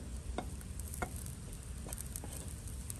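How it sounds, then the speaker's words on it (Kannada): Potato french fries frying in hot oil at home, a steady close sizzle and crackle with a few brief pops throughout, no voices. "ಓಕೆ, ಈಗ ನೆಕ್ಸ್ಟ್ ರೌಂಡ್ ಫ್ರೈಸನ್ನು ಹಾಕ್ತಾ ಇದ್ದೀನಿ"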